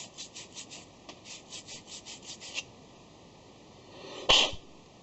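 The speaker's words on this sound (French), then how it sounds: "Un petit coup de brosse, si j'arrive à passer la brosse dedans." A wire brush scrubs inside a blind-hole internal thread on a metal lathe, giving a run of quick, rhythmic rubbing strokes up close, then a short pause and one louder scraping burst near the end.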